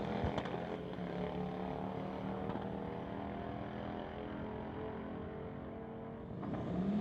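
Harley-Davidson motorcycles, including a 2019 Road King, drag racing side by side on a strip, engines droning steadily at high revs with a rising tone near the end, heard from a distance without talk.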